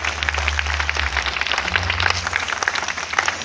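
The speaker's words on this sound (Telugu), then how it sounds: "గట్టిగా చప్పట్లు కొట్టాలి," A crowd gives loud, sustained applause at a gathering, steady clapping throughout, with a low hum underneath.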